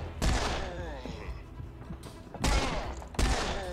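Bursts of gunfire in the shooter game Serious Sam 4: three loud, close volleys with short gaps between them, mixed with a voice talking between shots.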